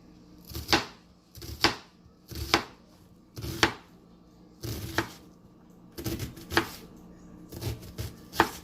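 Onions cut crosswise on a board with a dull knife: about ten steady, distinct chops spaced roughly a second apart, close and crisp, with no voices.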